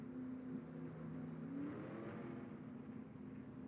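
Race cars drive by after pit stops at the MBNA 500, their engines droning steadily with one shifting pitch, a continuous mid-distance roar with no voices.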